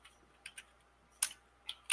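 Someone typing on a computer keyboard during a live command-line session: a handful of light, irregular clicks, close but faint, over quiet room hiss.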